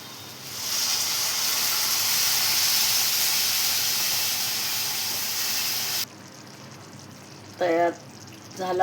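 Dried Bombay duck curry with spices and water simmers in a pan, giving a loud, steady steam hiss for several seconds that then cuts off abruptly, followed by a brief voice.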